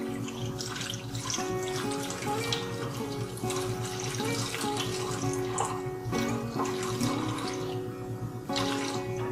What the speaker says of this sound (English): we're going to pour in 400 grams of warm tap water